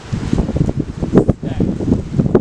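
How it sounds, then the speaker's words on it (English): Gusty wind ahead of an outdoor cold front buffets the microphone, a rough, uneven roar rising and falling in irregular bursts. "with this cold front kind of coming through, we got the wind picking up"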